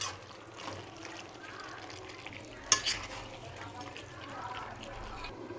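A spoon stirs chicken curry with chili powder in a pan in soft, scraping bursts over a faint sizzle, with one sharper clink midway and a quiet voice speaking in the background.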